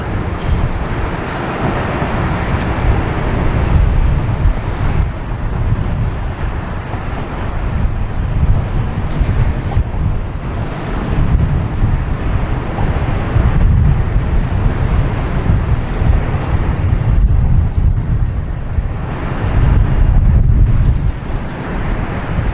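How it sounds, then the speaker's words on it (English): KLM airliner from Amsterdam at Boston Logan Airport, a sustained low jet rumble that rises and fades over time, mixed with strong wind buffeting on the microphone. "Here's KLM from Amsterdam."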